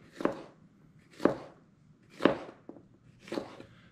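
Knife chopping jalapenos for brisket queso dip, four slow, evenly spaced cuts landing on a cutting board, close and clear with no talking.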